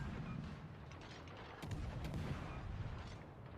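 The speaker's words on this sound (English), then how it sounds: "Basically shooting as fast as I can." Rapid naval gunfire from the Swedish warship Smaland in World of Warships: Legends, a dense, continuous barrage of booming shots with a slight surge partway through, sustained and fairly loud throughout.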